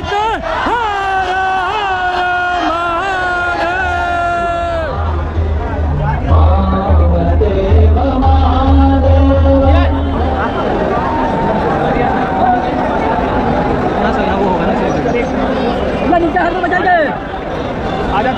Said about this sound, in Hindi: इतनी भीड़ है यहाँ पे कि दिया भी सही से नहीं जल पा रहा